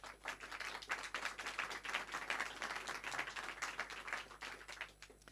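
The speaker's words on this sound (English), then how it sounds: "I think this deserves an applause." Audience applause after a moderated panel discussion on clean air, a dense, continuous patter of many hands, fairly soft and distant, tapering off at the end.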